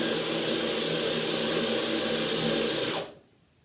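A high-pitched, steady whine of a fast drill with a 6mm tile bit boring into porcelain tile, running continuously for about three seconds before stopping abruptly.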